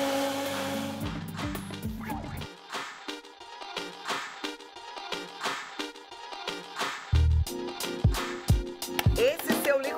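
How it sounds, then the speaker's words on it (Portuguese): A powerful 2000-watt blender blends juice in a kitchen, giving a loud, continuous whirring roar that surges and dips with choppy bursts as the contents churn. "Esse seu liquidificador é poderoso, né? Esse é 2000 watts, então ele bate mesmo."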